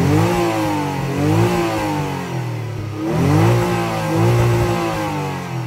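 A Ford Mondeo ST200 V6 revs repeatedly, its loud, smooth engine note rising and falling in several linear sweeps toward high rpm, heard close up.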